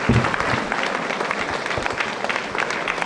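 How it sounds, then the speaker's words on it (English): A steady round of audience applause at a school Republic Day celebration, dense even clapping from a student crowd sustained for a few seconds. "Please give her a big round of applause."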